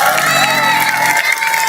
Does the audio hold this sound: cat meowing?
no